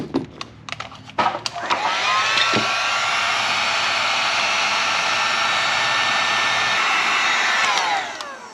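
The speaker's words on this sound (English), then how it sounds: "Get our heat gun." A heat gun blowing during wiring work on an LS-swapped Crown Victoria, with a steady, loud whooshing roar that runs for several seconds after a few clicks and handling knocks, then cuts off near the end.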